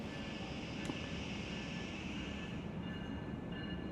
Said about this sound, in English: This train passes by us about 5 times a day.